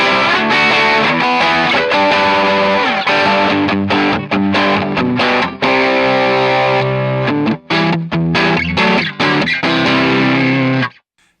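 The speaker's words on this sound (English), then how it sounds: "And if you want to bring a distortion in," Distorted electric guitar played through a Tone Shepherd DR80 multi-effects pedal, a thick sustained chordal tone ringing loud and steady with brief stops before fading out.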